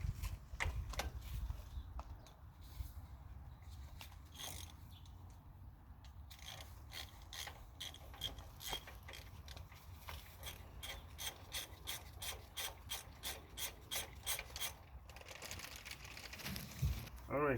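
A 1/2-inch drive ratchet with a stubby extension and a 27 mm socket loosens the front hub nut on a Ford E450, giving steady clicking pawl strokes up close with some mechanical rubbing.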